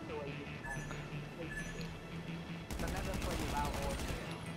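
Gunfire in the video game GTA V: bursts of shots crackle loudly in the second half, with a rapid run of repeated reports, while someone talks over the action.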